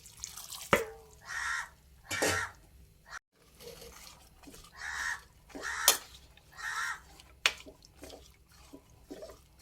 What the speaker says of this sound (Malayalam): കുറേ കാക്കക്കൂട്ടങ്ങൾ വന്നിരുന്ന് രാവിലെ മുതലുള്ള ചിലയാണ്